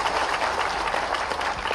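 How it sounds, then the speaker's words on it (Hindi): A crowd claps loudly at a rally for Prime Minister Narendra Modi during the Sant Ravidas Jayanti celebration in Bhopal. The applause is dense and sustained, a continuous wash of hand claps with no pauses. "जोरदार ताली बजाओ माननीय मोदी"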